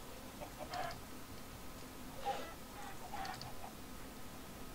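Short, sparse chicken clucks from a Minecraft minigame, three or four brief bursts spaced irregularly over a faint steady background hum.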